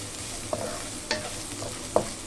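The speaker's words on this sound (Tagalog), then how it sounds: "halo-haloin lang natin hanggang sa lumabas yung aroma ng ating bawang at sibuyas" Garlic and onion sautéing in a pan, a spatula giving a few scattered scraping strokes over a low, steady sizzle, close by and fairly quiet with no talking.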